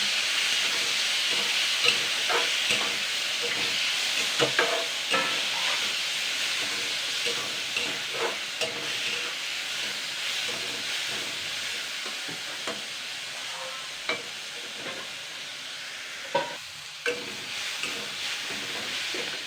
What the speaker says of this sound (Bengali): আগে আমি দুই তিন মিনিট হালকা ভেজে নেব